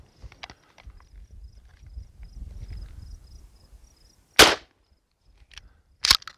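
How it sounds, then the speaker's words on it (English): A shotgun firing Hornady Critical Defense 00 buckshot at an outdoor range gives a sharp, loud blast, followed by a second shot a moment later, after quiet shuffling and handling noise. "More felt recoil on that Hornady, but not bad at all."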